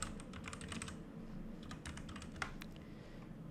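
Steady typing on a computer keyboard while working in Blender, with quick, soft, close key clicks running continuously for a few seconds at low volume.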